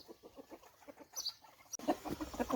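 Chickens and a small ornamental rooster cluck softly and intermittently at close range in a farmyard, with a sharper burst of clucking near the end.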